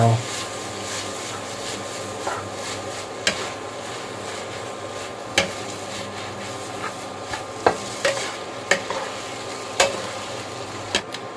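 Glass noodles with egg stir-fried in a pan, a continuous sizzle under scraping and stirring, with sharp clicks of a utensil striking the pan at irregular intervals, close and fairly loud.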